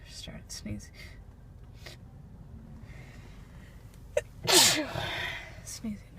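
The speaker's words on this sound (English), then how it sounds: "Sneezing." A woman sneezes while parking a car, with a short gasp and inhale building into a loud, sharp sneeze near the close mic, amid quiet breaths and faint car interior noise.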